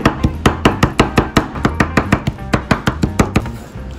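A knife chops red-oil doubanjiang chili bean paste on a board for Sichuan mapo tofu, striking in a quick, even rhythm of about four close, crisp knocks per second with no talking.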